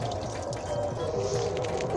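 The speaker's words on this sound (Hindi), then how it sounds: "चावलों का जो ऊपर थोड़ा सा पानी है ना वो पहले उतार लूँ" Water being poured off rice into a pot while making Sindhi biryani, a soft steady trickle and dribble of liquid heard close up and fairly quiet, with no talking.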